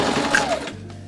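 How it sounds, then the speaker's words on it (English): A sewing machine stitching a straight line down the pleats of a garment sleeve, a short close mechanical whirr that cuts off and leaves a low hum. "she's just sewing a straight line down the pleats of the sleeve"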